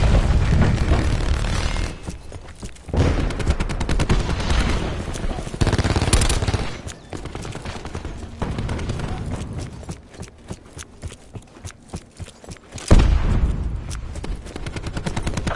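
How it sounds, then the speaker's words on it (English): A Hellstorm missile strike hits during a Call of Duty match, with loud, repeated explosions and rapid gunfire bursts rolling on throughout, interspersed with brief radio-style voice callouts. "Nomad requesting Hellstorm strike"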